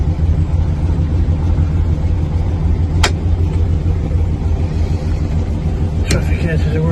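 A 1958 Morris Minor 1000 saloon idles steadily with a low, even engine rumble close by, and someone talks over it. Two sharp clicks stand out as switches are worked.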